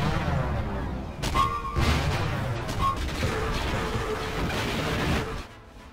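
Cannon batteries in Star Wars Episode III firing in a burst of heavy blasts and crashes, dense and loud over a backdrop of game effects and music, cutting off abruptly near the end.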